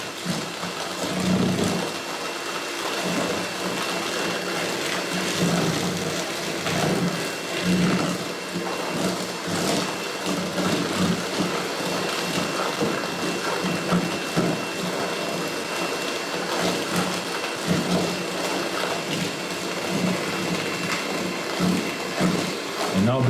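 A steady electric mixer beating egg yolks for tiramisu whirs continuously close by, with a rough, grinding buzz and faint voices underneath.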